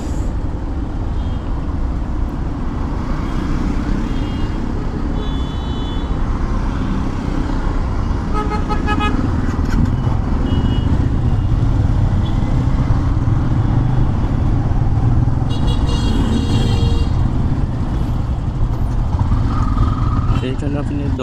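Jammed city traffic in Dhaka, dense engine rumble from cars and motorbikes with repeated horn toots cutting through, continuous and close, with a voice talking over it.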